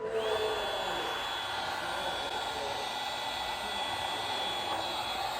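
A heat gun blows hot air steadily while drying paint protection film on a Tesla side mirror, a loud continuous whirring hiss that stays even throughout.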